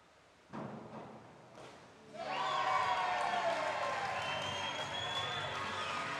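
A diving crowd at the FINA Diving Grand Prix 3m men's final in Canada swells into sustained applause and cheering after a dive, following a few thuds, broad and steady at moderate distance.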